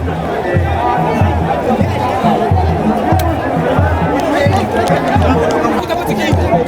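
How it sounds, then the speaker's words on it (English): A dense crowd fills the air at the Kano Durbar (Daushe) royal procession, a steady, loud wash of many voices with rhythmic low pulses beneath, continuous from start to finish. "receiving an outpouring of cheers from the crowd"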